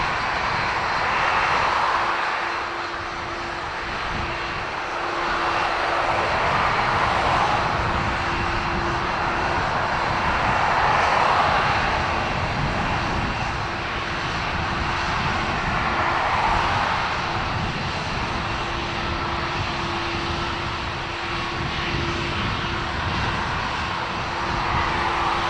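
Aircraft engines drone steadily at Dublin Airport, a continuous far-off roar with a faint tonal hum and slow swells in loudness, heard alone without voices.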